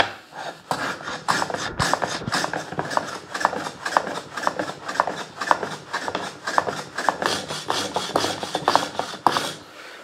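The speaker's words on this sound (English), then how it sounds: "So let's get planing." Hand plane shaving along the edge of rough timber held face edge against the fence, a rapid series of rasping strokes repeated steadily throughout, close and loud with no talk.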